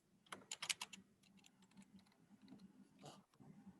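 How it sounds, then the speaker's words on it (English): Computer keyboard typing during a town capital planning task force meeting, a quick burst of clustered keystrokes followed by sparser, quieter taps over a low room hum, with no talk. "Typing with all these people watching."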